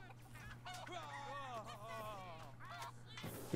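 Roosters in the South Park Phone Destroyer mobile game give a string of wavering, honking crow-like calls over a steady low hum and game sounds, fairly close and loud throughout.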